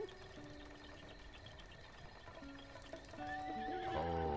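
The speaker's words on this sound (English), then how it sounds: "I mean, I heard a horse." A horse in the video game Breath of the Wild neighs with a rising whinny near the end. Its hooves clip-clop faintly underneath, all quiet and somewhat distant.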